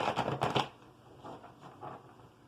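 Tarot cards are shuffled close by with a quick papery riffle at the start, then softer brushing card sounds fading out.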